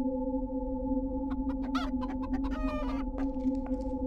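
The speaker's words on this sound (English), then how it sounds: "There's a chicken here." A chicken clucks in the video game Arx Fatalis, a short run of clear near clucks and squawks over a constant tonal background hum of the game's ambience.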